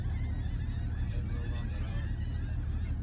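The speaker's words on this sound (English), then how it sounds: "There's an island over there with birds on it somewhere." Geese honk from an unseen island heard from an old boat cruising on the water, a steady layered chorus of calls carried over continuous low engine and water rumble.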